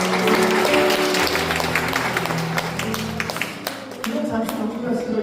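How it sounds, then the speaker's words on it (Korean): A church congregation at a Parents' Day Sunday service bursts into dense applause, which gradually thins while voices and a sustained low tone, likely an organ or keyboard, carry underneath. "박수!"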